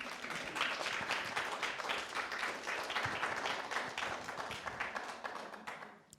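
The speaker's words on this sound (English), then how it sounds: "Now you can clap for the author" An audience claps at a literary reading, the applause steady and full for about six seconds before it stops abruptly, with no talk over it.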